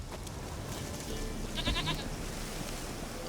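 A goat bleats in The Witcher 3: Wild Hunt, a few short nasal calls in the middle of a steady ambient game background, moderately close.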